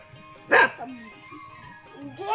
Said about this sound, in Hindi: तो अब भौंकने भी लग गई है